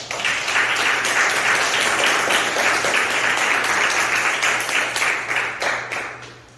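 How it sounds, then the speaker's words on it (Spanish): A church congregation applauds in praise during a Spanish-language worship service, giving sustained, dense clapping from many hands that stays steady throughout and tapers slightly at the end. "Dele un aplauso al Señor."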